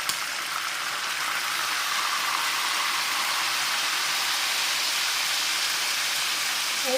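Onions fry in very hot oil for restaurant-style chicken handi, a steady, dense hiss of sizzling heard close and even throughout with no voices.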